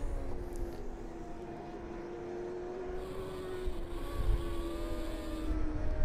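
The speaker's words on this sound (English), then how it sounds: "Huge gaggle of bikes now battling it out for second spot, as Christie has a clear field of vision" Sport bikes in the Hindle Exhaust Pro Sport Bike race, round 5, screaming around the track, a continuous high-revving engine drone with pitch sweeps as machines pass at a moderate distance, no talk.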